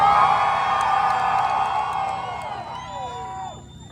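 Spectators at an import car two-step and rev battle in Woodburn, Oregon cheer and whoop for a silver Honda, a loud dense roar that tapers off into scattered high shouts.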